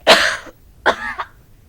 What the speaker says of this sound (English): She coughed some more as she struggled to stand.